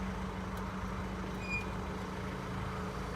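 A truck approaching a salvage rebuild yard in the UK, a faint, distant low rumble that stays steady and quiet with no voices over it.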